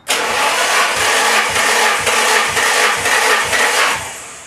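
Nissan 240SX SR20DET engine cranking over on the starter with the gas pedal floored during a compression test, a steady rhythmic churn of about eight even pulses, loud and close, with no talk.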